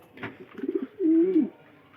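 A white male Sirazi pigeon coos close by inside its coop, with a few short throaty notes followed by one longer, rolling coo in a quiet indoor space.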